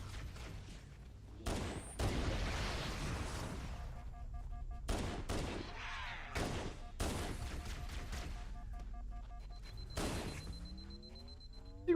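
Pistol gunshots in the shooter Halo CE, several sharp, loud reports spaced unevenly over several seconds, each trailing off amid game effects and beeps.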